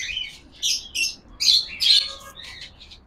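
Pet doves and lovebirds in a cage give close, bright bursts of chirps and squawks in quick, uneven succession, with short pauses between calls.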